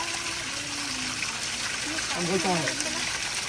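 Cold spring water from the hill trickling and gushing beside the Bababudangiri road, a steady near splash under brief voices.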